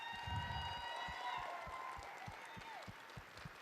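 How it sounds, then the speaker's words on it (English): An audience at a FIRST Robotics competition opening ceremony applauds in a steady, fairly distant wash of clapping, with tonal sounds and some crowd noise layered over it. "Let's give them a round of applause."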